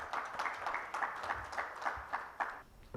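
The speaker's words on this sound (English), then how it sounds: "have a huge round of applause for Mr." Sparse, quiet applause from a conference audience at a competition law and social justice event, heard as a steady patter of separate claps for about three seconds with no talking.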